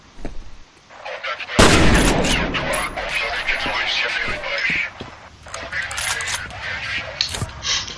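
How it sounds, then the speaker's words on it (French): A pump shotgun firing in the video game F.E.A.R., a sharp, loud blast followed by dense gunfire and game action sounds, with a voice talking over it. "viens de tirer un coup de fusil à pompe, les gars."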